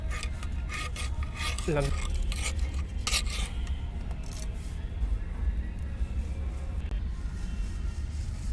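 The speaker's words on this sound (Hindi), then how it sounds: "सबसे पहले आपको इस तरह से गुड़ाई करनी होगी, साइड से आप गुड़ाई कर लें।" A hand hoe scrapes and rasps through moist soil around the base of a rose plant, a steady close gritty scratching that carries on throughout with no pauses.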